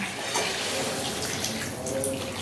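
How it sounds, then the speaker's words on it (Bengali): Water pours steadily into a pot of rice and spices being cooked for pulao, a continuous close splashing gush with no talking. "এর মধ্যে আমি পরিমাণ মতো জল দিয়ে দিচ্ছি"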